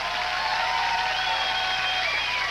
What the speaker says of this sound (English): Don't be clapping and stuff.